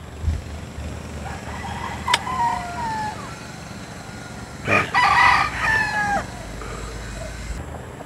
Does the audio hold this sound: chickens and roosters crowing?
yes